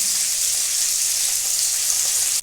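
Cashews, raisins and poppy seeds sizzle in hot oil for a cauliflower and potato dum, a loud, steady, close hiss of frying that fills the whole moment with no voices over it.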